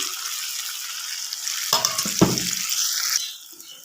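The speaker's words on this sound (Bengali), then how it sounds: "আগে থেকে সিদ্ধ করে রাখা যে কড়াইগুলো, মটরগুলো আমি দিয়ে দিচ্ছি।" Boiled peas and dried yellow peas tipped into a hot frying pan for ghugni, giving a sudden loud sizzle and stirring clatter that then settles under a steady frying hiss.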